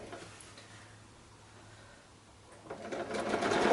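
Sewing machine stitching fabric pieces for a quilt with gentle curves, a rapid mechanical whirr that starts softly and grows louder and steadier toward the end, close by with no talk.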